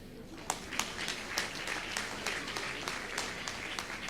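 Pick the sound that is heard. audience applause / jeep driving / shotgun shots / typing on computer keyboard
audience applause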